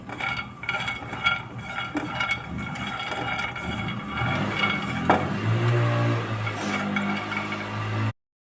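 Peanuts dry-roast in a pan, rattling and clinking against the metal as they are stirred, with a continuous scraping, jingling texture at moderate level.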